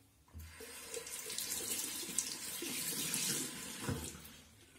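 Running water pours from a tap into a sink while a face cleansing device is rinsed under it, a steady close splashing rush that swells and then eases off near the end, with no voices.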